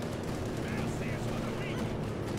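Dense, continuous gunfire from several infantry squads pours onto a German MG-42 machine gun team in Company of Heroes 2, a steady loud barrage of overlapping rifle and machine-gun shots with a commentator's voice faintly beneath.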